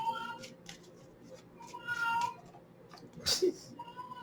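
A house cat meowing indoors, a few short, fairly soft mews spread across the moment, with one louder cry near the end over quiet background hum.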